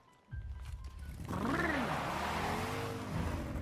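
A motorcycle engine in the animated film Advent Children revs up sharply after a brief lull, then holds a loud, throbbing roar with pitch sweeps as the bike accelerates and swerves.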